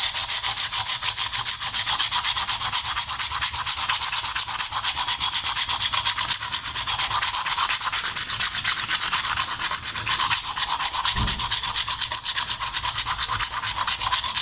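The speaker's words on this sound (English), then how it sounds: "we're actually stuck back using an old sanding block" Continuous rapid scratchy rasping of hand sanding a metal motorcycle mudguard with a sanding block, steady back-and-forth strokes close up with no talking.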